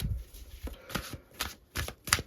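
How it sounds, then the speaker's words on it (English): A deck of tarot cards is shuffled and cut in soft, quiet bursts of riffling and tapping, close up and with no talking. "I'm going to shuffle and do a cut of the deck"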